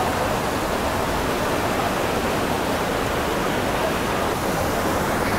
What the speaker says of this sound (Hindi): यहाँ पर काफ़ी सारे पत्थर है और पानी काफ़ी फोर्स से आ रहा है